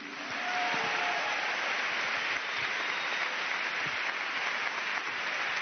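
A studio audience applauds fighter pilots at length, a dense, steady wash of clapping that swells in after a brief quiet start and holds without talk.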